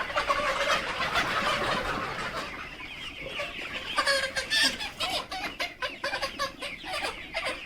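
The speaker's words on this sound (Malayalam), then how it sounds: "ഈ എഴുപത് ദിവസം പ്രായമായ കോഴി ഇപ്പോൾ കിടക്കുന്നു" A 70-day-old laying hen clucks in short, repeated bursts nearby, growing choppier and more rhythmic toward the end, with no talking.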